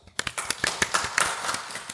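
Scattered clapping rises from a small audience at a live Disney-themed podcast taping, a loose series of distinct, fairly close hand claps that stay sparse rather than swelling into full applause.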